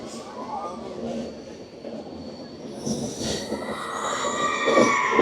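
A mountain train on the Araku railway emerges from a tunnel, its rumble and rail noise swelling louder toward the end with high wheel squeals, heard up close with no talk.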